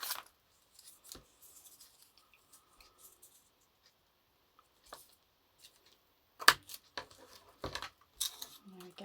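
Paper being cut with scissors for a collaged postcard, a few short crisp snips and rustles spread through otherwise quiet moments, with one cluster of louder cuts near the end.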